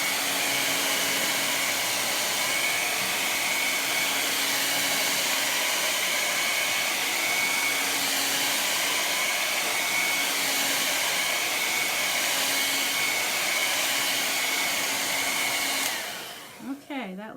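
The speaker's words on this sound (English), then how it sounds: "Here's my dryer. I'm going to dry this up super quick." A hair dryer blows steadily to dry chalk paste on a table, a loud, even whine and whoosh that holds for about sixteen seconds before cutting off with a brief clatter.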